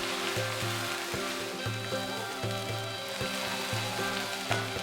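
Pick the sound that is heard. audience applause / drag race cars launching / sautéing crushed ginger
sautéing crushed ginger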